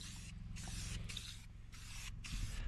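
A spray paint can hisses in steady, close bursts separated by brief gaps, loud and alone.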